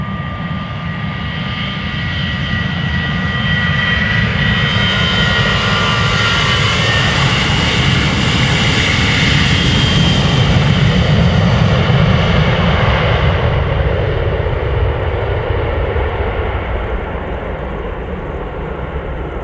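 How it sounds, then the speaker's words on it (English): KLM flight 913 to Aberdeen takes off from Amsterdam Schiphol, a loud, near jet roar that builds, holds strong through the middle and gradually eases off, alone without talk. "KLM flight 913 to Aberdeen"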